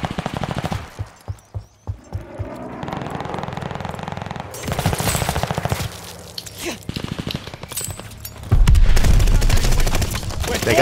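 Automatic and rifle gunfire in the video game Call of Duty Vanguard comes in rapid bursts and fusillades, with a heavier sustained barrage near the end, loud and close, and a player's voice talks over it at times.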